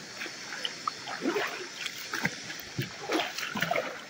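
Water splashes and sloshes as people wade across the Tizu river, in irregular bursts of rushing spray and churning over a constant flowing background.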